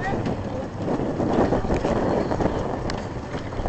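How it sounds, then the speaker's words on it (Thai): Steady wind blowing at a seaside location, a continuous broadband rush with gusty swells and buffeting against the microphone throughout. "โอ้ยลมพัด"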